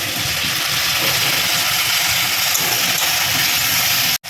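Chicken stir-fried in a pan with salt for chili chicken gives a loud, steady, close hiss of frying that holds evenly throughout and cuts out briefly just before the end.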